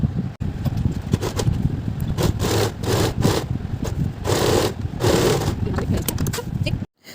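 A sewing machine stitching stretched elastic onto a denim skirt panel gives repeated bursts of close mechanical whirring, each lasting about a second, separated by short pauses.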